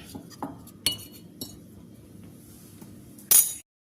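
A spoon clinks against a dish while lemon pickle is spread, giving a few separate light taps and one louder clatter near the end, close and clear against quiet.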